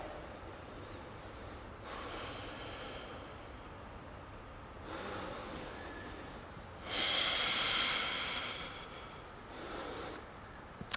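Four long, audible exhales through the nose during a yoga pose at a wall, each a breathy rush lasting one to two seconds with quiet pauses between, close and soft, the third breath the loudest.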